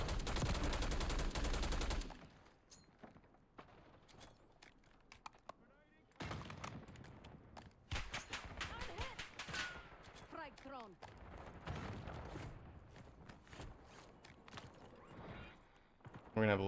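Bursts of gunfire in a Call of Duty Warzone match on Rebirth Island, including a 3-round burst Kompakt weapon, with sharp shots in clusters scattered through the clip under occasional talking.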